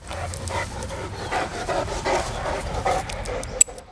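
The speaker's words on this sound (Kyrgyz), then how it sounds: "Немец догу иттердин эң көлөмдүүсү, салмагы 80 килограмм." Heavy, rhythmic panting from a large Great Dane weighing around 80 kilograms, steady and close over about four seconds, with no talking and a brief sharp click near the end.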